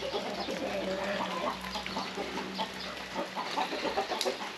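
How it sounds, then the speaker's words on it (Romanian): Hens clucking in a rural Romanian farmyard at Easter, a soft, continuous chatter of low clucks and murmurs at moderate distance against outdoor background noise. "Se rezumă decât la găinile ăștia care le are și la cloțele care mai scot pui natural."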